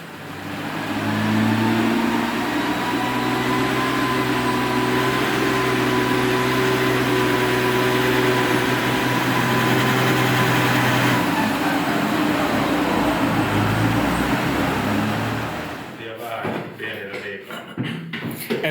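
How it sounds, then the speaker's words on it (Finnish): A Mercedes-AMG GT fitted with a heavily tuned OM648 turbodiesel idles with a loud, steady, close drone that holds evenly for most of the stretch before cutting off near the end. "Vaikuttaa tyhjäkäynnillä hyvältä."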